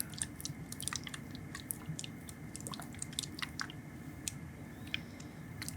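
Plastic cap of a used lens cleaner bottle filled with water, handled up close in a quiet room, giving soft repeated squishy clicks and faint drippy taps scattered steadily throughout.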